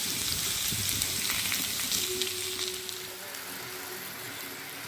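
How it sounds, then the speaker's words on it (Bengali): Small fish, seasoned with salt and turmeric, fry lightly in a pan with a soft, steady sizzle and hiss that eases slightly toward the end, with no speech. "মিনিট 2 মতন ভেজে নেব হালকাভাবে"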